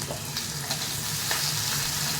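A tempering of spices crackles in hot oil for a greens dish, giving a dense, continuous sizzle with small pops, close and steady throughout with no voices.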